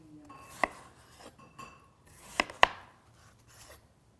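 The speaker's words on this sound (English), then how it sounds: "Another nice way is to simply slice all the way across." A knife slices across a honeydew melon on a board, giving two or three sharp, close cuts with quiet pauses between them and no talking.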